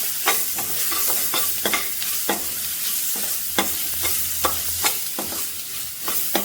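Tomatoes stirred into frying masala in a pan for vermicelli chicken pulao, with a steady sizzle under repeated sharp scrapes of the spoon against the pan, close and alone.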